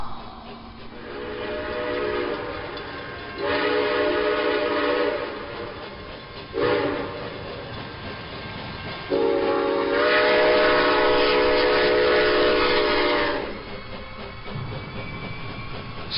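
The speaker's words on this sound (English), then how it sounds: "Take a ride upon the terror train." A train rolls along with a steady rumbling clatter while its whistle sounds in several long, loud tonal blasts, separated by stretches of plain track noise.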